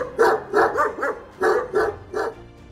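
Central Asian shepherd dogs (alabai) bark in a series of about seven deep, heavy woofs, some paired in quick succession with short gaps, close and loud.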